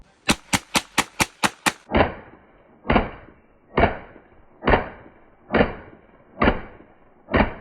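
A custom NAK9 Draco-style pistol built from Draco parts firing outdoors, first a quick rapid string of about seven sharp cracks, then eight single shots spaced evenly around a second apart, each loud and followed by a short echoing tail.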